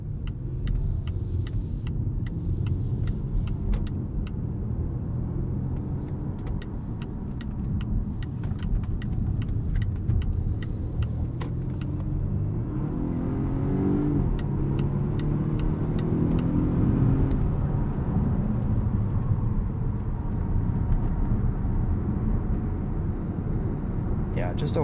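A 2021 Volvo S90 Recharge T8 Inscription plug-in hybrid sedan accelerates in power mode up an entrance ramp, a steady engine hum and road rumble rising slightly as it goes.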